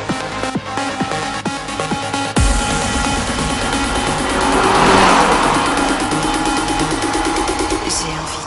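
A Renault Clio RS engine revs and roars up, building to a loud whine with tyre noise, close and continuous after an abrupt change in sound.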